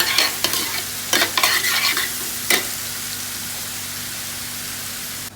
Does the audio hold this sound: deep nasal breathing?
no